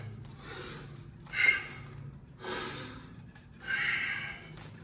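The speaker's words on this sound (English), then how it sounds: "Then a note through the nose, nasal breathing." Several slow, soft breaths pass through the nose during a breathing drill done with the tongue resting on the roof of the mouth, each a quiet airy rush with brief pauses between.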